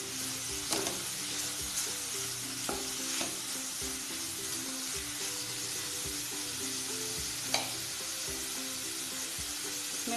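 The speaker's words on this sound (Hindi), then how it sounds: "अब इसमें ऐड कर देंगे शिमला मिर्च, लाल, पीली और हरी, और इसको भी हम थोड़ी देर भून लेंगे इनको 2 से 3 मिनट तक।" Red, yellow and green capsicum fry in a pan, a steady loud sizzle and hiss running throughout with occasional clicks of a spoon stirring, no voices over it.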